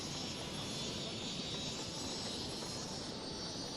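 A plane taking off at London City Airport in the city-building game Cities: Skylines gives a steady, loud engine roar that holds evenly throughout with no talking over it.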